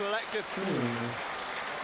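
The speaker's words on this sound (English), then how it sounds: "It's illustrated by them all clapping." Stadium crowd at a Sunderland v Luton Town football match clapping together, a steady wash of applause heard under a commentator's continuous talk.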